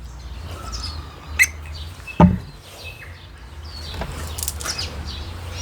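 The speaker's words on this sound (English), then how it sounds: "The birds are chirping." A few sharp bird chirps ring out against a quiet outdoor background, with a brief knock and faint rustling between them.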